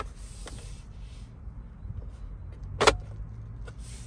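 Inside a 2021 Kia e-Niro electric car, a cup holder is pushed shut with a single sharp plastic click near the end, after soft fumbling and rustling in a quiet cabin.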